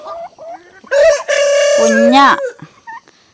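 A turkey lets out loud, drawn-out calls close by, a few short clucks before and after the long warbling cry.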